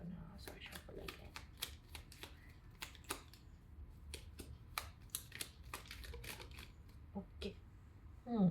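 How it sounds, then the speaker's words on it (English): Tarot cards are shuffled in quick, irregular bursts of crisp riffling snaps, close and fairly quiet, with a brief soft voice sound at the end. "I'm just gonna start shuffle again."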